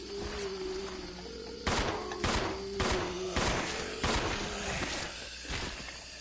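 Gunfire in Resident Evil 0: a series of about seven sharp, loud shots spaced roughly half a second apart, ringing over a low background hum with no talking.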